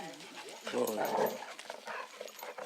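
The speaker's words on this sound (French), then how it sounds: "Le chien." A dog barks and whimpers amid loud people talking nearby, the dog sounds brief and partly masked by the overlapping voices.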